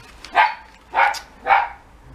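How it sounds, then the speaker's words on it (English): Dogs bark inside a house, three loud, close barks evenly spaced about half a second apart with quiet between them. "I know it's really annoying when a dog barks in a video"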